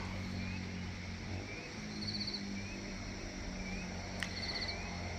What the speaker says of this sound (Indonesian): Ditemani dengan suara jangkrik ya.